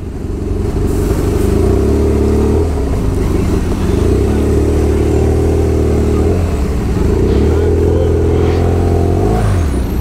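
A BMW F800 motorcycle fitted with a straight-through exhaust pipe revs hard on the street, its loud engine note rising and falling in repeated throttle blips close to the listener, with a voice briefly heard under the roar.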